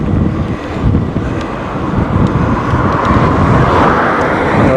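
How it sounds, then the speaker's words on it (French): Constant loud wind buffeting the microphone during an e-bike ride in the Sundgau, Alsace, a rough low roar with rumbling gusts throughout and no voices. "Je sais même pas si on m'entend tellement il y a de vent."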